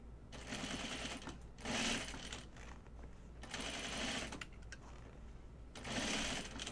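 A sewing machine top stitches a bucket hat seam, its rapid mechanical clatter coming in several bursts of stitching with brief slower pauses between, fairly quiet and close.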